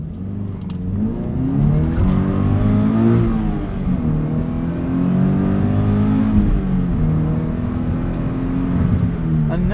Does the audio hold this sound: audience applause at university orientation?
no